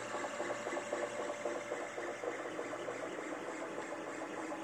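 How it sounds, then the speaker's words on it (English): SUNLU S8 large-format 3D printer running while printing PETG filament, a steady faint mechanical whir and stepper-motor hum with light rhythmic buzzing, constant throughout with no talking. "SUNLU S8 3D printer first run."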